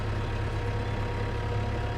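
A tractor pulling a slitter rake combination runs with a steady low engine drone that holds even and continuous at close range.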